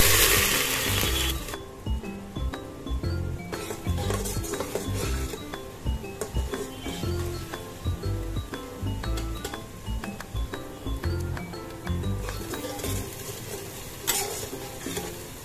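Three chopped medium onions frying in hot oil for mutton keema, a continuous sizzle punctuated by repeated clinks and scrapes of a spoon against the pan, close and steady throughout with no speech.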